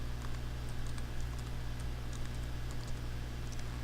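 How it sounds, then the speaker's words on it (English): Steady rapid clicking of a computer keyboard as server connection details are typed, quiet and close over a constant low electrical hum, with no voices. "now you need to type your server information."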